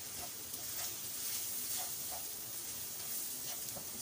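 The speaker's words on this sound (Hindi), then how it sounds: "बस हल्का सा फ्राई करना है।" Steady, soft sizzling hiss of food frying in a pan, continuous and close, with faint clicks scattered through it.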